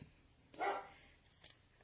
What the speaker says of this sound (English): Oh, the dogs are going crazy.